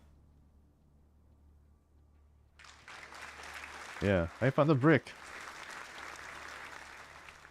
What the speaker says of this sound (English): Let's hear some claps.